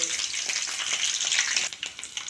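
Garlic dropped into hot oil already crackling with mustard seeds and urad dal sizzles loudly and steadily, a dense close-up frying hiss with small pops that eases slightly near the end.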